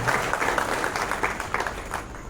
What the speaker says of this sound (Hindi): आप तालियों से उनका स्वागत करिए